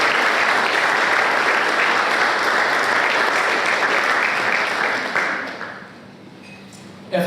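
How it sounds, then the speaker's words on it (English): A large crowd at an AFLW Best & Fairest awards night applauding the supporters, loud sustained clapping that fades out after about five seconds into quieter room noise. "So a round of applause for those support."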